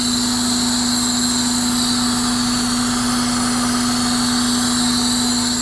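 A 2001 Honda Odyssey engine with a short ram intake idles steadily with a constant low hum and a whiny high tone, close and loud, without revving.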